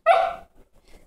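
A single sharp dog bark on command during trick training, loud and close, fading into quiet with faint movement afterward.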